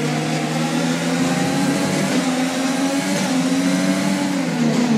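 Formula 1 race car engine in the F1 2020 racing game, a loud, steady high-revving drone with shifting pitch, continuous throughout with no talking.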